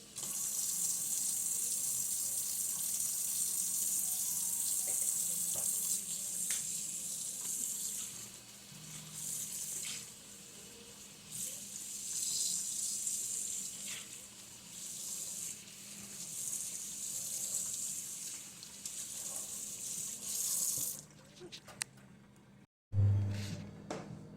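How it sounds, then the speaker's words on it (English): Tap water runs steadily and loudly into a sink while Epson ET-2720 sublimation printer ink containers are rinsed, with the flow shifting as they are moved under it and cutting off near the end. "So we're just going to rinse these out as well as we can."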